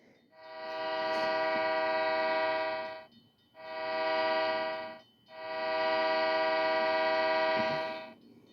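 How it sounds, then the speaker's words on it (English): A freight train horn blasts three times in a row, long-short-long, loud and fairly close, with faint rail rumble underneath between the blasts. "Oh look, it's a train."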